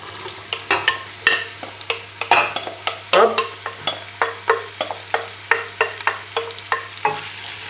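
Sliced zucchini stirred and sautéed in fat in a pan for a quiche with spinach and mozzarella, steady sizzling broken by a regular series of spoon scrapes and clatters, close and alone.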